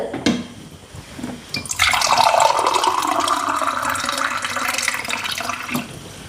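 A glass of water pours steadily onto fenugreek seeds in a vessel for several seconds with a rising gurgling fill, close and clear, with no voices.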